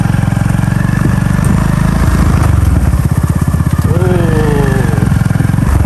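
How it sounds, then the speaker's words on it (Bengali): A motorcycle engine chugs in a loud, close, rhythmic putter on a hilly jungle track in Sylhet, rising and falling, while people talk over it. "বাইক নিয়ে যেতে হবে"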